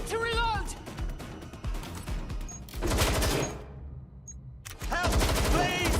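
Rapid bursts of automatic gunfire in the video game Watch Dogs: Legion, loud and close, broken by a brief lull, with shouted character voices over the shooting.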